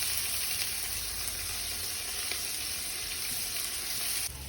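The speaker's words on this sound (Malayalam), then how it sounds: "അതിന് ശകല ഉപ്പ് ചേർത്ത് എളുപ്പം സബോള വഴറ്റും." Onions sauté with a pinch of salt in a pan for a beef curry, giving a steady, dense sizzle that holds evenly close-up for the whole stretch, with no voices.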